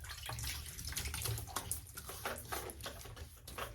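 Tap water running and splashing as a stubbled face is wetted before a razor shave, a faint, steady close spatter with irregular small splashes.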